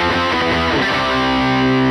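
A distorted electric guitar plays a riff, with loud chugging chords settling into a sustained ringing chord.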